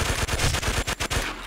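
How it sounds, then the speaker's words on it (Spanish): Rapid automatic P90 fire in the Warmode shooter game, a loud close burst of dense, evenly spaced shots lasting over a second and then breaking off briefly. "con la P90 no importa dónde dispare, le vas a matar"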